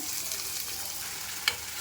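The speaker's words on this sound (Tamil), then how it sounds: "ஒரு எண்ணெய் சட்டியில் மூணு ஸ்பூன் எண்ணெய் ஊற்றிட்டு ஃபஸ்ட்டு கொத்தமல்லி போட்டுக்கணும் பொடியாக நறுக்கின வெங்காயம்" Chopped onions and coriander sizzle and fry in hot oil in a pan, a steady crackling hiss with one brief sharper pop near the end, close and fairly loud.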